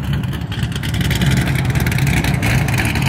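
A car engine revs hard and continuously during a burnout competition, loud and close with a roaring, rattling exhaust, with no break for the whole stretch.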